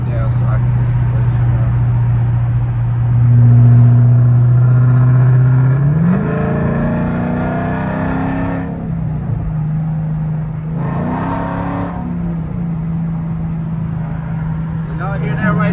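Dodge Charger R/T V8 fitted with long tube headers, a deep idling rumble that swells into two loud revs with rising exhaust roar, heard close up from the car.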